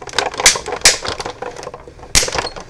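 A die cutting machine runs a stamp and die set through, cutting critter cup shapes, with a few sharp clacking bursts over a steady mechanical rattle, close and fairly loud.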